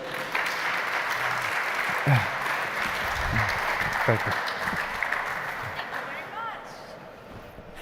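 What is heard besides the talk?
audience applause at a stage event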